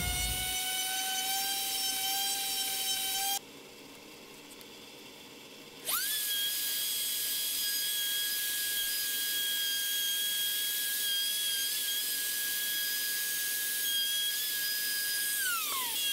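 High-pitched whine of a rotary tool with a flat bit flattening the surface of a walnut serving dish, steady and close, pausing for a few seconds then spinning back up and holding before winding down.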